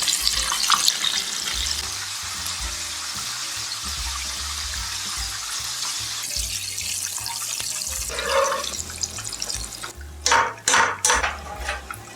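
Steady sizzling and bubbling of dried pollack deep frying in hot oil, continuous and close, with a few louder crackling bursts near the end.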